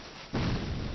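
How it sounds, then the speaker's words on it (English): A deep, booming explosion in the video game Dark Souls II bursts out suddenly partway through and holds as a loud rumbling roar, with no talking. "Oh, there's the explosion."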